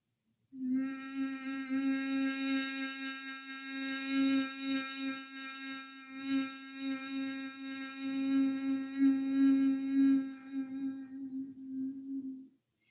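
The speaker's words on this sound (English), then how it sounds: "you keep your mouth closed and you do a humming sound, sounds like this." Someone hums steadily with the mouth closed for about twelve seconds. The tone is low and sustained, close to the listener, and rises and falls slightly in loudness without words.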